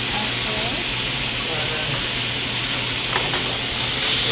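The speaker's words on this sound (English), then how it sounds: "Okay, so now we're gonna fry the we're gonna do the sauce" Sauce for salmon penne alfredo sizzles and steams in a hot pan, a dense continuous hiss with faint stirring, close and loud with no pause.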